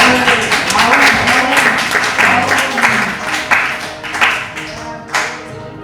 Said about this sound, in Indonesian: Tepuk tangan singa.